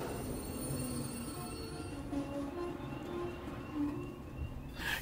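A train arrives in the video game Alien Isolation: a steady metallic rumble with squealing, whining wheel tones that rise and fall over several seconds, heard alone.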